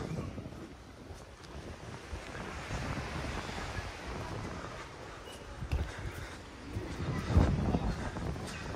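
Gusty wind roaring across the microphone outdoors at a beach in Adler, a continuous rumbling rush with occasional stronger buffets.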